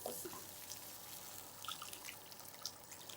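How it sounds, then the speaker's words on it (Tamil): Water poured into a pan of vegetables frying for Chinese vegetable soup, a steady hissing, splashing wash with small bubbling pops, close and moderately loud throughout. "இப்போ இதில் வந்து தண்ணி சேர்த்துக்கலாம்."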